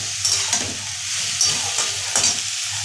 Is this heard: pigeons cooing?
no